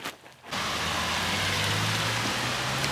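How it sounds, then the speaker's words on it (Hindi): Heavy rain pours down outdoors in Manchester, a steady, dense hiss that starts abruptly after a brief muffled moment and continues loud and unbroken, with a low hum underneath. "बारिश हो रही है पूरे ज़ोरों से"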